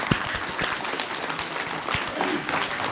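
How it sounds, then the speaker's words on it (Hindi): Dense, steady applause from an audience at a yoga workshop event held at a public school in Aligarh, many hands clapping together at close range with a few sharper individual claps standing out. "तो उनके लिए भी जोरदार तालियां बजाई जाएं।"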